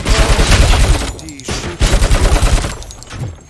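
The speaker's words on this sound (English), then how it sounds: "Too bad they're shooting at me." Dense gunfire in the video game RoboCop Rogue City, loud rapid bursts of shots running almost nonstop with brief dips, a heavy firefight close up.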